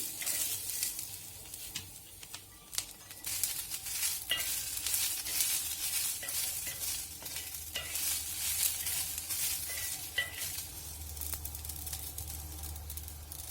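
Soft sizzling of green chillies roasting on an iron griddle, with frequent scraping stirs and clicks, steady and close, no talking.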